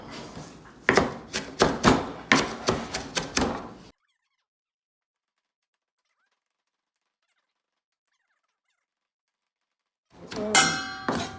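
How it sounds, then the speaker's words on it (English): A knife roughly chops cilantro on a wooden board for chimichurri, a quick run of about a dozen sharp, close taps, then silence before a few more chops resume. "Just a rough chop."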